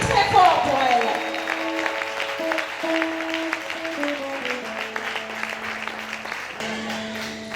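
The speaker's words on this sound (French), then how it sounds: "je vous prie d'applaudir très fort pour elle." An audience at a tribute ceremony for a singer applauds under a sustained musical backing, with steady clapping and voices mixed in, moderately loud throughout.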